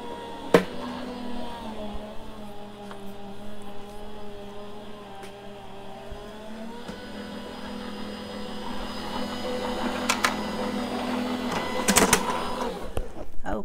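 A Gemini foil press machine runs a covered card through its rollers, giving a steady mechanical whir and hum that builds slightly, with a few sharp clicks near the start and late on.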